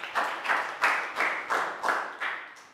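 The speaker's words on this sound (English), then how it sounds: "Big round of applause." Year 3 pupils in a maths class clap for a classmate in rhythmic unison, about eight even claps in a row, close and moderately loud.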